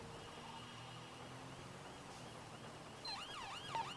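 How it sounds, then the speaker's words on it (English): A police car siren in the video game GTA V starts wailing near the end, its rising and falling tones cutting through a faint, steady background of engine and road noise. "Right, put my sirens on now."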